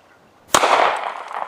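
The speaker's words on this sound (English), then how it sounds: "Put your finger on the trigger and it's ready to shoot" A single sharp gunshot at an outdoor shooting range, a loud close crack followed by a decaying echo, with no talk.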